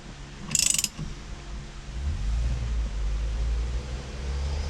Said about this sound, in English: Now I'm going to lock the steering wheel down.